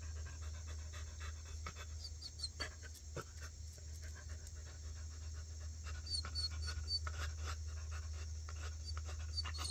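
A dog panting heavily in fast, steady breaths close by, with faint whimpers and small rustles over a low constant hum.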